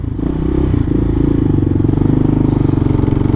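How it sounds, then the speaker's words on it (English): A carbureted Kawasaki KLR motorcycle engine idles steadily up close, with a loud, even thumping rhythm and some mechanical clatter throughout. "my KLR runs better when it's not super cold out"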